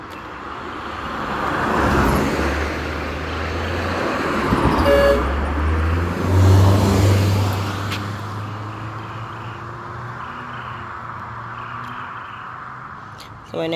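Vehicles pass along a road in Jamaica, rising and falling in a steady traffic rumble with a couple of short horn toots, heard up close and continuously over the whole stretch.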